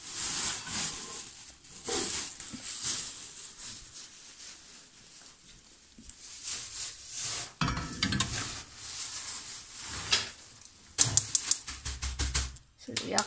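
Rapid clicking of a gas stove igniter followed by a soft whoosh as the burner catches under a pot for boiling, after a stretch of kitchen clatter and rustling.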